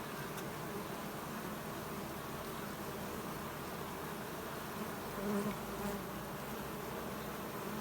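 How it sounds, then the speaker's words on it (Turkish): Honeybees buzzing around the entrance of a hive fitted with a queen excluder, a continuous dense drone of many wings close by, steady and even with no voices. "Şöyle gördüğünüz gibi arılar her yerden girebiliyor."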